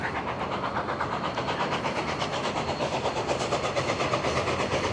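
Union Pacific 844 steam locomotive drawing near in Omaha, a steady broadband rumble and hiss with a rhythmic pulsing chug that grows slightly louder over the seconds, no voices over it.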